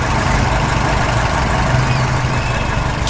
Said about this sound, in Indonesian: Traktor biru melintas di tengah tanah berbatu.